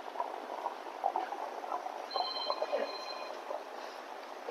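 Water trickles and splashes faintly but continuously in a small decorative eco-friendly Ganpati makhar waterfall pouring from a cow-mouth spout, a soft bubbling patter heard up close with no voices.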